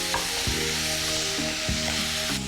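Garlic, tomato and green chillies stirred in a hot pan, a steady sizzle of frying with a few spoon scrapes at regular intervals, close and alone without any voices.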